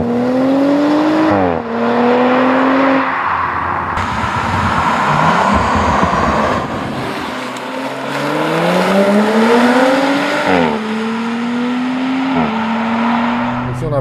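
An Audi RS5 with a twin-turbo V6 revs and accelerates hard through several gear changes, its engine pitch climbing then dropping at each shift, loud and close.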